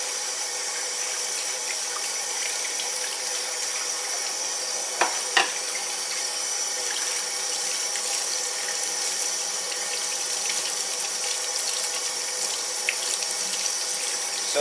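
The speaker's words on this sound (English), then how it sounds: "Now I'm just going to rinse it all off here and see what we got." Tap water runs steadily into a sink as a cast iron skillet is rinsed, a continuous close hiss with a couple of brief knocks from the pan partway through.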